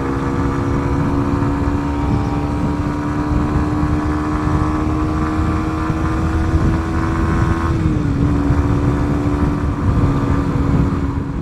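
A Kawasaki Ninja 125 motorcycle engine holds a loud, steady high-rev drone on the motorway, with a brief dip in pitch near the end before it climbs back, heard close and alone without any talk.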